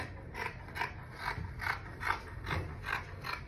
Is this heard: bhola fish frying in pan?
no